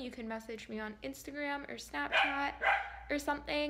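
A pet dog barks repeatedly in short, sharp yips close by indoors while a person keeps talking over it.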